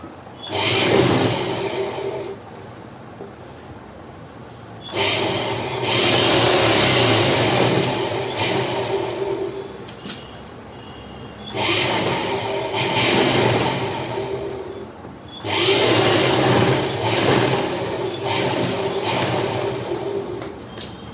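A sewing machine stitches a blouse in bursts: four runs of a few seconds each with pauses between them, a close, steady mechanical whirr with no talking.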